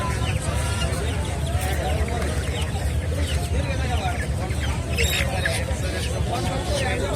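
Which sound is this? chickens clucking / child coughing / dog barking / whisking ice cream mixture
chickens clucking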